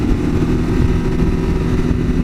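A 2022 Kawasaki KLR650 dual-sport motorcycle downshifts before a corner just as its cam chain tensioner fails, its single-cylinder engine a loud, close, steady throbbing rumble with no talk over it.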